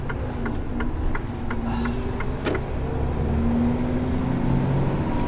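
A truck engine drones steadily while driving on the M4 motorway, a low, even rumble with road noise and a few faint ticking clicks, with no talk.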